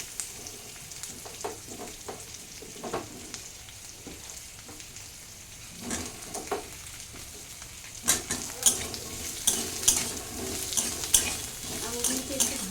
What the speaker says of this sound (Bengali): আমগুলিকে একটু ভালো করে আমি ভেজে নেব।